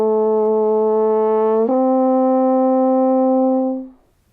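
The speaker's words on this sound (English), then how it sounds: "Let's do it on the horn and see what it sounds like first." A French horn holds a steady note starting on E, then slurs up to a higher pitch and sustains it before the tone tapers off, solo, close and clear.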